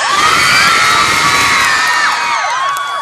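A dense crowd of fans screams and cheers loudly at a mall tour stop in LA, with piercing high-pitched shrieks and whoops layered continuously throughout.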